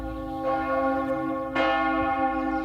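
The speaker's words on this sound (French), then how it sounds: "Et lorsque les cloches sonnent," Church bells ring out steadily with rich, sustained overtones near a war ossuary amid birdsong, a fresh loud strike adding to the resonant toll partway through.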